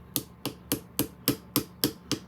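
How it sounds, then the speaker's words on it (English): A small gunsmith hammer strikes a punch to drive out the trigger pin of an LWRC SMG, eight sharp metallic taps in an even steady rhythm, close and loud. "I'm gonna use my little punch and my little wannabe gunsmith hammer, and we're gonna knock this pin out."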